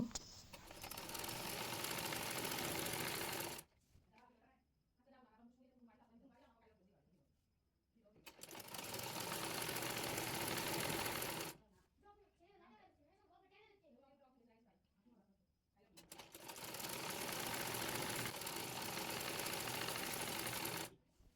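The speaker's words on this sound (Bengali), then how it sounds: "এরপর পায়ের মোহরে চিকন করে মুড়িয়ে সেলাই করে নেব।" A sewing machine stitches the narrow folded hem at the leg opening of palazzo trousers, running in three steady, fairly loud bursts of a few seconds each, with a voice talking in the pauses between runs.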